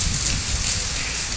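Steady rain falls in a village, a dense, even hiss of drops on surfaces that stays loud and unbroken throughout with no voices.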